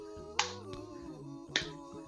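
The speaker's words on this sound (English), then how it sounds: "See if you can look at your hands as they clap together" Two sharp hand claps about a second apart during a children's movement class, set over a quiet backdrop of music with a sustained tone.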